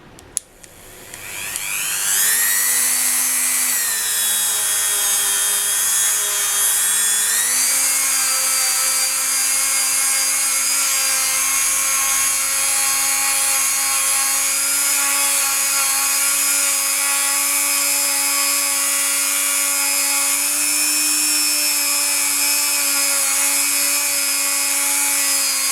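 A rose quartz heart donut made of polymer clay is buffed on a rotary tool, giving a steady high-pitched whine that climbs as it spins up and then holds loud and continuous, with no talking.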